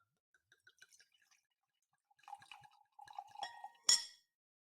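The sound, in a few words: wine being poured into a glass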